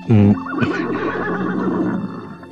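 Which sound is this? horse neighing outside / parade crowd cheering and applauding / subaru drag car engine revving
horse neighing outside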